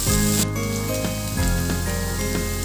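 Carrots and potatoes pan-frying in chicken oil, a steady loud sizzle throughout with a sharp burst of spattering as food hits the pan near the start.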